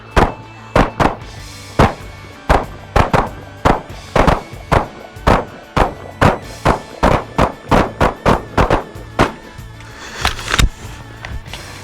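Gunshots crack in a fast, uneven series, around two dozen loud close reports spread over about twelve seconds as shooters fire while moving toward a target.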